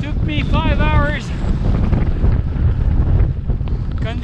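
Strong wind buffets the microphone at 13,000 feet in snowy mountain conditions with a constant low roar, while a person talks briefly at the start and end.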